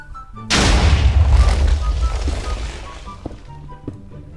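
A single loud explosion booms in the Minecraft video game, a deep close blast that hits after a short quiet moment and then rolls off into a fading rumble.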